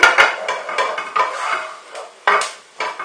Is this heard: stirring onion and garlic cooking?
yes